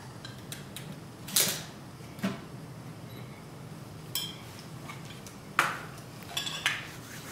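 A small child playing at cooking, clinking cutlery against pots and dishes in sporadic bright clatters with quiet pauses between, fairly close.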